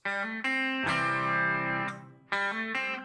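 A distorted electric guitar strums chords of a rhythm part, the notes shifting as fingers hammer onto the strings, with a few short gaps between strums.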